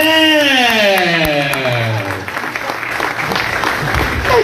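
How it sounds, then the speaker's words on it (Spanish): Sustained audience applause and cheering at a live comedy show, broad and loud throughout, while a speaking voice with musical-sounding harmonics sweeps over the first half before fading into the ongoing crowd noise. "¡Fuerte el aplauso para"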